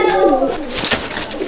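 A pair of white Kamagar pigeons coo in a loft, one bird close and loud with a brief throaty rolling coo and a second fainter burble after it.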